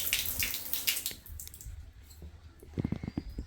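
Water runs from a household tap during washing up, a steady hissing stream for about a second before fading, followed by quieter clinks and knocks.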